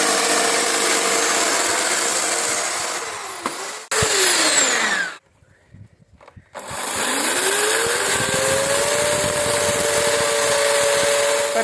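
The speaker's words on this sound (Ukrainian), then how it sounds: "беремо болгарку, ставимо спецкруг і шліфуємо, щоб було як стекло" An angle grinder whines loudly against brick with a steady high-pitched grind, breaks off briefly into near silence, then spins back up and grinds on.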